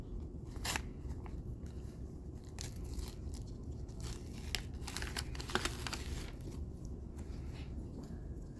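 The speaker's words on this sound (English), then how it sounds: "So we'll open the tape up." Medical tape crinkles and tears as it is pulled open for a sterile wound dressing, a close run of dry crackling and rustling bursts over steady low background noise, with no voices.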